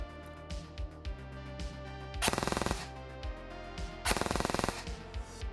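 Zion Arms PW9 Mod 1 airsoft replica pistol-caliber carbine with a programmable Nebula MOSFET firing on full auto: two loud rapid bursts of mechanical rattling shots, each lasting about half a second, over quieter background sounds.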